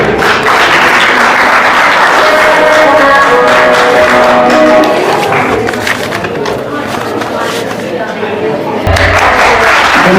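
An audience at a college annual festival applauds loudly after students perform a dance, with dense continuous clapping that dominates throughout and brief crowd noise mixed in.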